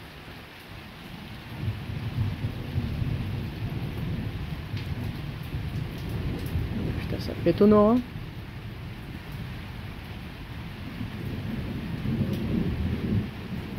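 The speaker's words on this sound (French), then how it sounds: "Orage fort, avec une belle activité électrique" A strong nocturnal electrical thunderstorm, steady rain hissing throughout with low rumbling thunder swelling near the start and end; a person speaks briefly mid-way, with a short rising tonal sweep over the rain.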